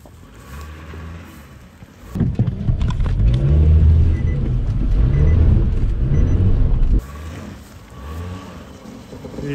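Nissan Altima engine revving hard for a jump attempt, a deep loud roar building suddenly and holding for about five seconds before cutting back to a lower rumble.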